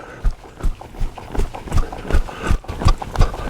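A horse's hooves thud rhythmically on the ground while it is ridden during a softening exercise, a steady close beat of about ten footfalls in a slow gait.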